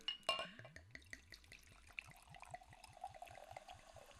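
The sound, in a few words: Prosecco sparkling wine bubbling in a glass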